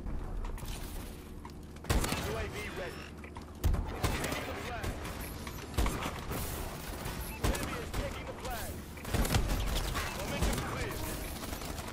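Video game shooter gunfire in bursts of sharp cracks at about 2, 3.7, 6, 8 and 9 seconds over a steady bed of game noise, with a player talking throughout.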